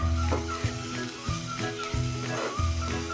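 Softened methi (fenugreek) greens being stirred in a pan, a low sizzle with a hum running under it and several rhythmic scraping strokes of the spatula.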